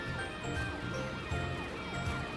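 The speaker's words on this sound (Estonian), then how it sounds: "Matt läks kiirabiauto Ämberit kutsuma" Cartoon ambulance siren wailing in a steady, looping rise and fall, loud and close, alone without talk over a faint engine hum.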